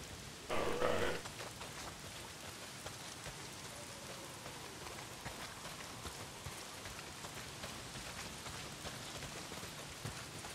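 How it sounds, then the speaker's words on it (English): Heavy rain in the video game Days Gone falls as a steady, soft hiss of downpour throughout, with a brief louder splash near the start. "Well, not if it's pissing down rain."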